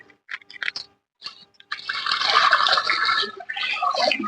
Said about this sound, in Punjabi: ਹੁਣ ਆਪਾਂ ਇਹ 'ਚ ਪਾਣੀ ਭਰ ਲੈਨੇ ਆ